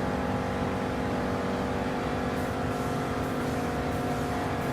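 A Chevrolet Corvette C2 Stingray races in Gran Turismo Sport, its engine holding a steady, loud drone with a constant tonal whine throughout, no pauses or gear changes standing out.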